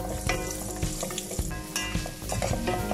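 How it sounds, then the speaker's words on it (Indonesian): Raisins sizzle in ghee in a pan, a steady bright crackling fry close up, with scraping and knocking of a utensil stirring the pan at irregular moments, no talking. "Kita goreng dulu kita punya kismis."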